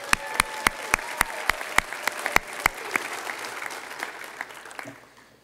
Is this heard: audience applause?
yes